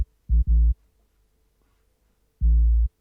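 A saturated 808 bass drum from a drum and bass remix, heard as three deep, buzzy low booms: two quick hits close together, then a pause and one longer hit, loud and alone.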